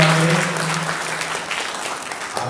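An audience at a spiritual gathering claps steadily, a dense wash of applause from many hands continuing throughout.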